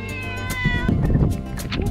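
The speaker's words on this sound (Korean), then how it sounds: "뭐야 쟤는 고양이?" A cat on a plum orchard farm in Gapyeong meows loudly and repeatedly at close range, with drawn-out, wavering cries that carry over a low outdoor background.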